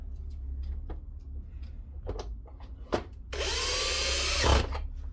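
A power screwdriver drives a screw into a shredder's plastic cover in one short whirring burst, preceded by scattered clicks and knocks of handling parts nearby.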